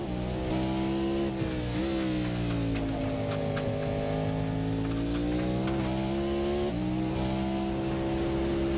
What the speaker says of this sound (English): on board with the Cadillac, let's listen into the sound of this engine